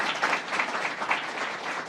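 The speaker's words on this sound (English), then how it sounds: "So let's give a round of applause to our great principal," An audience applauds a school principal at an education event in Albany, a steady, dense clapping wash that holds at an even level throughout, with faint speech traces mixed in.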